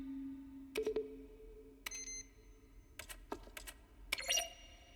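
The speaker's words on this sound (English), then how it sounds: "Each sound is a mix of keyboard stroke." Keyboard-stroke button sounds from the video game The Stanley Parable: a sparse series of short clicks and clacks, some paired with brief beeping tones, spaced irregularly at moderate volume with nothing else heard.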